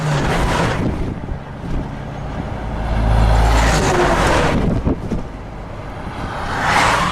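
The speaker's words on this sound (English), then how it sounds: "Hold your breath, here comes a few cow trucks." A few cattle trucks pass on a road near a railway line, a loud rushing roar that swells and fades, mixed with heavy wind buffeting the microphone.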